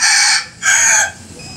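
Four-month-old chicken pullets crow and cluck loudly and close, in two strong calls separated by a short gap, with a softer sound trailing after.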